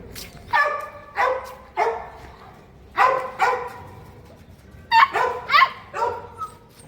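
Young puppies yap in short bursts of high, squeaky barks, several close together in quick clusters with brief pauses between.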